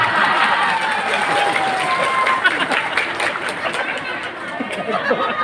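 An audience at an Islamic religious sermon gathering applauds in a sustained patter of clapping, mixed with crowd chatter and voices throughout.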